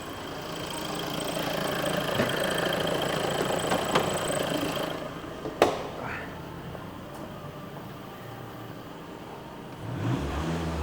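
A Volkswagen Scirocco TDI diesel engine idles with a steady low rumble and clatter, with the bonnet open, heard close and moderately quiet, with a few brief clicks and knocks over it.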